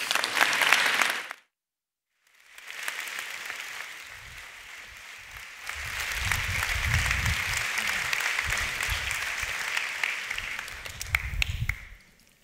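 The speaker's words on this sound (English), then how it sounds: "please give a warm hand of applause to Academy Award winning director Dr. Jan Pinkava." An audience claps for a keynote speaker at a conference. A short burst of applause breaks off, then returns as a steady, full round of clapping that swells and continues to the end.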